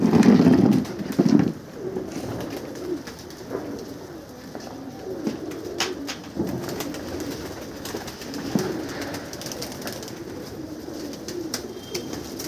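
Pigeons coo softly in the background, with a louder burst of cooing at the start and scattered wing flutters among steady ambient noise.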